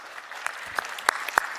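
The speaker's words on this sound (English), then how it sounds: "Please give Maria a round of applause." Audience clapping at a Porsche 911 (992) launch event, a soft continuous patter of hands with a few sharp, louder claps standing out near the front over a brief stretch.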